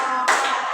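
A class of schoolchildren claps together on cue, giving one sharp burst of hand claps in a room, brief and fairly close, with no talking.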